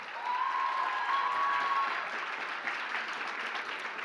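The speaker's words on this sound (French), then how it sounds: "Et on peut encore l'applaudir bien fort." Audience applause for a cosplay performer at a convention contest, a broad wash of clapping from a large crowd, steady and fairly distant, with a brief whistle or cheer near the start.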